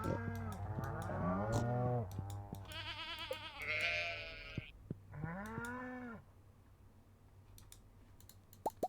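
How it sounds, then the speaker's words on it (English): Cattle mooing in the Stardew Valley farming game, several drawn-out moos in succession over the first six seconds, fairly loud and close, with a low steady background hum and no talk. "because we do have a new cow"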